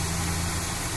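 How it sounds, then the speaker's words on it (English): Car engine running after an anti-friction engine oil treatment, a steady close drone with even low hum and no change across the short stretch. "let's look at the engine and how it's running"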